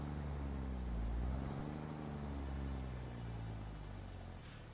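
A truck drives in Satisfactory, its low engine drone rising and falling steadily and fairly close, with no speech over it.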